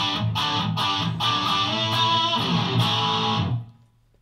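A heavily distorted electric guitar plays chugging, rhythmic metal riffs with punchy palm-muted hits through an IRT-X cabinet with one impulse response, then rings out and fades to quiet.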